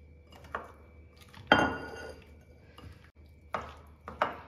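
Gooseberries are mixed with masala in a vessel, producing sparse, close clinks and knocks against the pot with quiet pauses between them.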